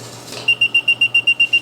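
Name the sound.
alarm float beeping when picked up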